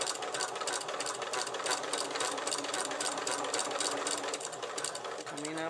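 A sewing machine stitching binding onto a quilt runs in a fast, steady mechanical rhythm, close and loud throughout.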